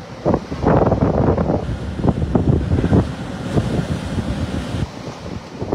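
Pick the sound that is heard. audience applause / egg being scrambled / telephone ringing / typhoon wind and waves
typhoon wind and waves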